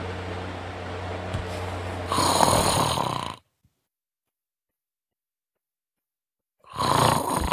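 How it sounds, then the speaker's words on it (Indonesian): A person snoring loudly and close by, with rough, rattling breaths that stop abruptly into silence for a few seconds before another heavy snore starts. "Ngorok dia"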